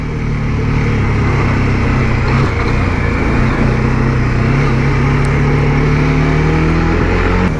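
A 2018 Bajaj Dominar motorcycle engine runs steadily while the bike filters through tight traffic, a loud, continuous drone with mild shifts in pitch and wind rush throughout.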